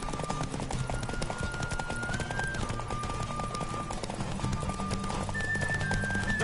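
Hooves of a galloping horse clip-clop in a fast, steady rhythm during a horse race in The Witcher 3, with a whinny mixed in over a continuous game soundtrack.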